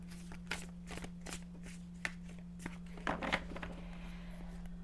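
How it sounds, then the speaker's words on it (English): A deck of tarot cards is shuffled close by in soft, irregular riffles and taps, a faint steady electrical hum underneath and a denser flurry near the end, with no clear speech. "Okay, let's do one more shuffle."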